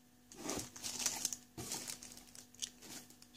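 Plastic foil wrapping on a headphone box crinkles in a few close, soft bursts, separated by brief pauses and heard alone in a quiet room.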